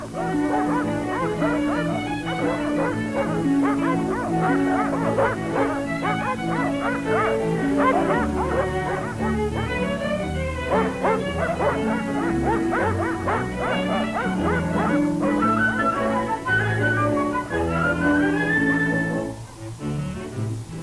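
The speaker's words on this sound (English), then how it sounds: "the sled dogs greeted the return of daylight with a noisy welcome" A pack of sled dogs on the ice shelf at McMurdo, Antarctica, barks, yips and whimpers steadily for the whole stretch, many overlapping voices loud and close, with a noisy, busy background beneath.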